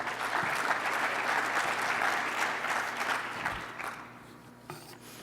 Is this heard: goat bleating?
no